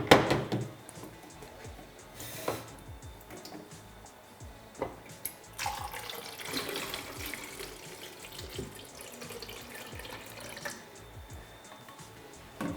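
Developer liquid poured into a film developing tank, a continuous close trickle and splash of water with occasional knocks and taps of handling, no talking.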